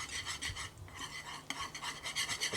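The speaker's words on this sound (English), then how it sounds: "Again, with the whisk, you're putting that air in that it needs" Hand whisk beating a mixture in a bowl, a rapid rhythmic scraping with quick repeated strokes, close and fairly quiet, a brief pause near the middle before the beating resumes.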